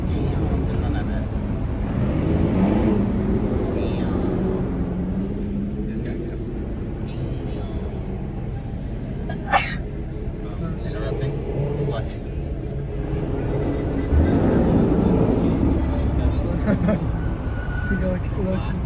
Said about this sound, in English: we're watching the car leave. The cars leave.